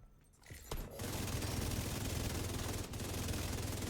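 The St. Elmo rifle fires in the video game The Division 2, a dense, rapid stream of automatic shots that starts after a brief lead-in and continues loud and unbroken to the end.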